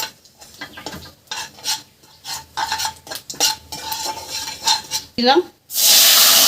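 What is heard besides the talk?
tempering spices, ginger, chilli and tomato sizzling in pan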